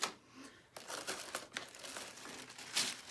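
Paper sanding sheets for a nail drill being handled, giving close, faint crinkling and rustling in short irregular bursts.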